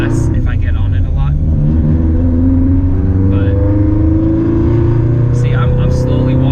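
A 500-wheel-horsepower Subaru WRX engine drones steadily, rising gently toward about 4,000 RPM, with a few short higher-pitched whistles or chirps from the drivetrain over the constant low rumble.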